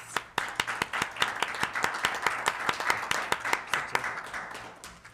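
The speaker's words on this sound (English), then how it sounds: "I think that deserves a well round of applause" A round of applause at a Town of Truro Committee of the Whole council meeting: a modest group clapping steadily with sharp, distinct claps that gradually thin out toward the end, with no talk over it.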